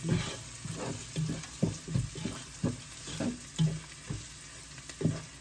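Spices fry for chicken curry in a quiet, continuous sizzle broken by regular rhythmic scrapes of a spoon against the pan, each stroke clear and close.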